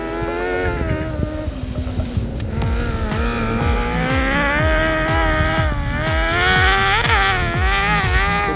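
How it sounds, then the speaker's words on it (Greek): A Speedcar Xtrem 600 race car engine roars continuously close by on a dirt track, revving up and down repeatedly through rapid gear changes, loud and alone. "Τώρα έχουμε και ήχο. Μιλάει το αυτοκίνητο."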